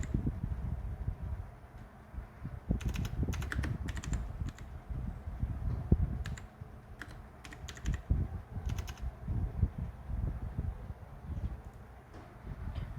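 Computer keyboard typing in short bursts of quick, faint clicks over a low background hum, with pauses between bursts.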